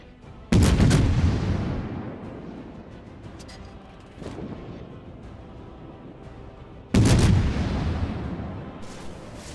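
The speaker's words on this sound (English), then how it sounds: "I'm firing with my rear guns on the Turpits because I have to turn in to protect myself from incoming" Atago cruiser in World of Warships firing its rear gun battery: two loud, booming salvos with long rumbling decay, a quieter thud in between, heard without voices.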